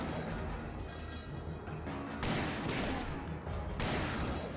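Gunfire rattles in the Call of Juarez video game, dense bursts of shots and blasts filling the scene, loud and continuous with no talk.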